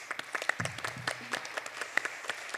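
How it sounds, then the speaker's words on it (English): An audience keeps up steady applause, dense overlapping claps with a few sharper claps standing out, sustained throughout at moderate volume after a panel event. "the claps going, everybody"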